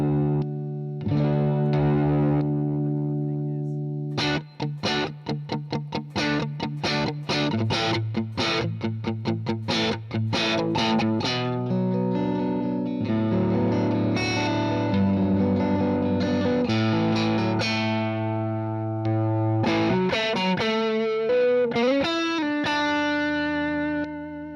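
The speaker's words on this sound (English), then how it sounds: "You can clearly hear single coil humbucker qualities" Electric guitar with a split-coil humbucker played through overdrive, loud and continuous with strummed chords, rapid staccato stabs and sustained distorted notes, alone without talk.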